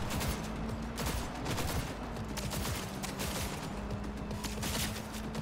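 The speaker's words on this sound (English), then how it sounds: "Hey, look, it's an invisible pistol." Rapid pistol gunfire in the Cyberpunk 2077 video game rattles out as a dense, continuous volley of sharp shots over a droning game background, with no talk.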